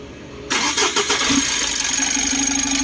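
A Mitsubishi L300 Euro 4 engine cranks and fires after an alternator bearing replacement, catching abruptly and settling into a steady, close, rough idle with a faint whine on top.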